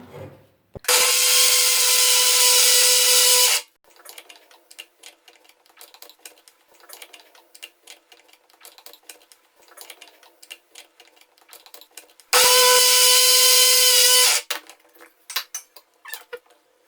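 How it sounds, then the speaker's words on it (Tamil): A mixer grinder pulverizes roasted wheat flour for laddu in two loud, steady whining bursts of about three and two seconds. Scattered clicks and knocks of handling the jar fill the gap between them. "இப்போ நம்ம இதை மிக்சியில் அரைக்க போகிறோம்."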